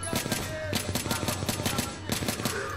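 Rapid automatic gunfire in Battlefield 3 co-op, bursts of shots in quick succession with brief pauses, loud and close, no talking.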